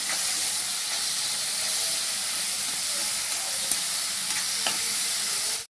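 Grated beetroot stirred in a pan with curry leaves for beetroot rice, a steady frying sizzle and hiss running throughout with a few faint scrapes of the spoon, close and with no one talking.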